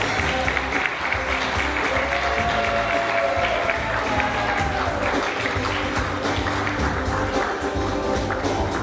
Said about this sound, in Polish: Duże brawa poprosimy dla kandydatki.